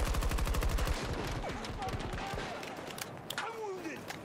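Automatic weapon fire in the video game Battlefield 2042: a rapid burst of close shots for about a second, then scattered distant pops and crackles amid battle noise, with voices calling out.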